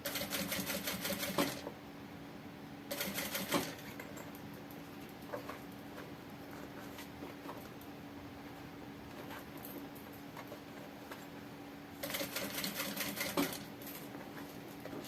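A sewing machine stitches a safety seam along the edge of a backpack, loud rapid bursts of stitching that stop and start, with quieter handling noise in the pauses.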